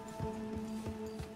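Horse hooves clip-clop in Red Dead Redemption 2, four fairly evenly spaced thudding steps at a trotting pace, close and moderately quiet over a steady background hum.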